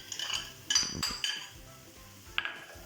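Metal spoon clinks and scrapes against a pot as tomato paste goes in with sautéed onions and peppers for Turkish bean stew, a few sharp close taps over quiet stirring.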